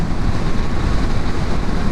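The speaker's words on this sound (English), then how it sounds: "it is all very windy, if you can't tell. I'm fighting the wind right now." Steady, rough wind buffeting a microphone outdoors at the Sturgis Motorcycle Rally, a loud continuous rumbling roar with no talking.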